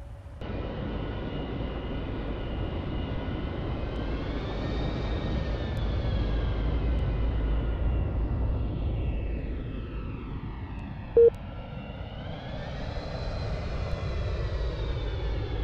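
An Avro Vulcan jet bomber taking off at an Eastbourne air display, a loud, steady engine roar with rising and falling whine that holds throughout, with one brief sharp click partway through.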